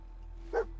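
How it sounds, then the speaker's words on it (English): In Fallout 4, a dog gives a single short bark at a distance over a steady low hum, brief and fairly faint. "you barking at dog meat"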